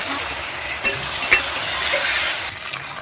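Chili powder and a pinch of sugar hiss and crackle in hot oil in a pan for a thin Bengali bata fish curry with ground kalonji, with steady sizzling broken by a couple of sharp spoon scrapes and clinks.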